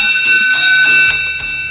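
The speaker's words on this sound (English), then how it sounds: "there's our 1 lap to go bell from race director Mike Weiss, sending him off for the final loop" A race director rings a bell for one lap to go at the Gateway Cup Giro della Montagna bicycle race, a bright sustained ringing with steady overtones and a few repeated strikes, loud and close over faint background.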